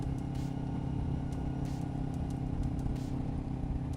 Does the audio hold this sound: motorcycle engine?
yes